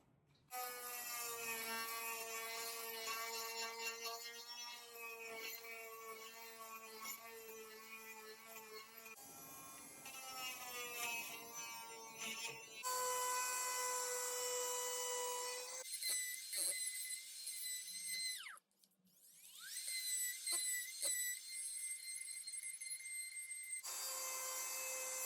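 A rotary tool fitted with a 1/4 inch bit whines steadily, its pitch stepping up and down as the speed changes, with brief pauses and a short cutoff near the end.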